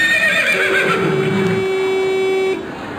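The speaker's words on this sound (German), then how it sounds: "Ein Pferd." A horse neighs in a long, loud whinny with a steady drawn-out tone, heard over a noisy indoor background during a live sound-guessing game.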